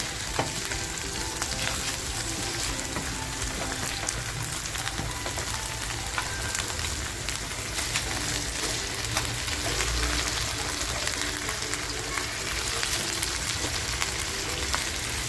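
Surmai kingfish fries in a pan with a dense, continuous crackling sizzle that stays loud and even throughout, close up and with no voices over it.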